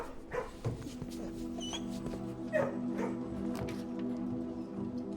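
A dog in the video game Blue Prince yips and whimpers in a few short bursts, heard over a steady game music backdrop with sustained tones.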